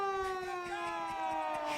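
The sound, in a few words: stadium siren horn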